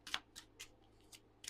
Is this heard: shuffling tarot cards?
yes